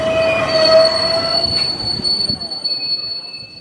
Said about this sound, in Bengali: পরদিন খুব ভোরে ট্রেন এসে শিমুলতলায় থামল।